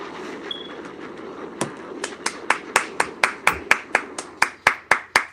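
Applause for Uncle Bobby on a podcast comes as a series of about fifteen crisp, evenly spaced claps, close and distinct, speeding up slightly after a quiet start.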